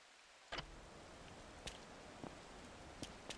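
Soft steady rain patters in the background of a Yakuza game, with a few sharp ticking drops standing out now and then; no one speaks.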